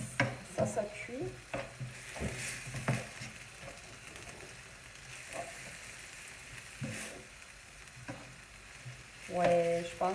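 Sliced zucchini and bell peppers fry and sizzle in a pan, with a steady crackle broken by scraping stirs and a few utensil clinks against the pan close up.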